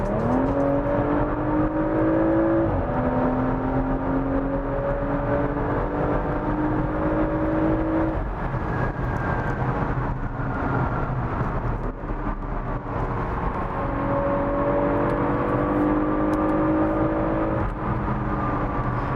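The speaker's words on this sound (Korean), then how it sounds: "계속해서 뭔가 팝콘 사운드라거나 뒤에서 바바방 하고 터지는 소리가 GTS에서 나는데" Porsche Macan GTS engine and exhaust droning steadily inside a tunnel, with rising and falling harmonic tones as the SUV accelerates and shifts, loud and close throughout with no talking.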